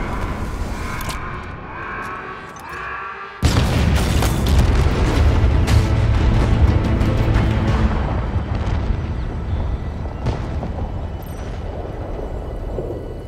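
Explosions in the video game Halo Infinite, a sudden heavy blast followed by a long rumbling roar with crackling debris, loud and sustained.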